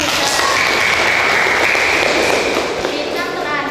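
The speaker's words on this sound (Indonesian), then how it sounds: "Ya, tepuk tangan untuk Fahita" A classroom of students applauds a classmate, dense continuous clapping throughout at steady loudness with some voices mixed in.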